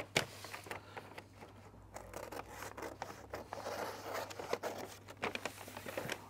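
Scissors snip and scrape through a kraft paper plant bag, cutting a window out of the front, with crinkling paper rustle and irregular close cuts throughout, no talking.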